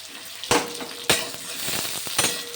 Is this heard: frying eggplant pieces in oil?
yes